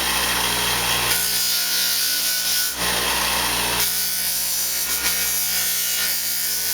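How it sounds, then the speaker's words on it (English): A small hand deburring tool scrapes along the planishing line on shaped metal for a finger gauntlet, giving continuous loud rasping strokes in long even passes with brief pauses, no voices. "This is a nice little tool. Kind of deburrs, smooths out the planishing line."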